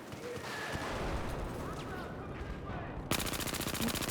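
AK rifle fire in Battlefield 4 starts abruptly near the end as a rapid, loud burst of automatic shots over steady in-game battle ambience and distant rumbling.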